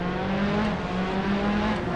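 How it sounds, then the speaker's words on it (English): Noisy race cars in a Hot Wheels animated race roar steadily on a tight, technical track, a constant dense engine drone with no pauses. "I should start picking such noisy cars."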